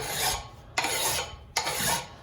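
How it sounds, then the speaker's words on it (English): A mower blade held in a vise is draw filed by hand toward a sharp edge, giving three long, rasping strokes, each pull a steady scrape followed by a brief pause, close and clear. "and draw file this thing back to a sharp edge"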